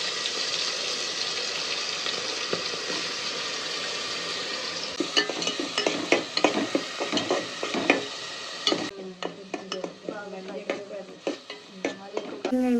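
Spice paste of fenugreek seeds, curry leaves and green chillies goes into a hot pan for a home-style fish curry, bursting into loud sizzling and frying, then stirring scrapes and clatters over the steady hiss.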